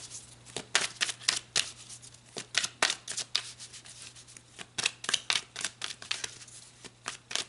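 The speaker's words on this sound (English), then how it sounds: "let's pull some more cards" Tarot cards being shuffled and drawn: soft, quiet rubbing and flicking strokes in irregular bursts, close and unaccompanied by talk.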